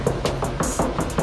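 Knuckles rap a rusty metal car body panel: about seven quick, close, sharp knocks in an irregular rhythm, with no voices during the knocking.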